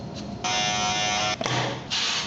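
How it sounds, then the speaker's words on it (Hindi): Electric beard trimmer buzzing steadily close up, a loud sustained whine that cuts out briefly near the middle and then resumes, run over an already shaved beard. "जो दाढ़ी पहले से ही शेव्ड है उसके ऊपर ट्रिमर मारना है।"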